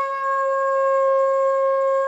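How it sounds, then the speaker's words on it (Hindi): A steady, unbroken tanpura-style drone held on the tonic, even and moderately loud, with no voices over it. "जैसे तानपुरा बजता है,"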